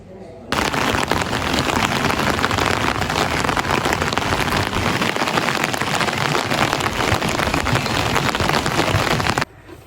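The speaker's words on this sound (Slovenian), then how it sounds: "Ulil se je. In to ful." Heavy rain pours down in a dense, steady roar that starts abruptly and stops just as suddenly, loud and close, with no voices over it.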